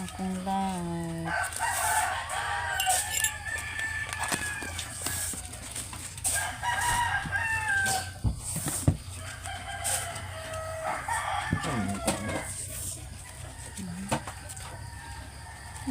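A rooster crows repeatedly on a farm, loud and close, with chicken clucking and other bird calls mixed in. Background talk runs underneath the crowing.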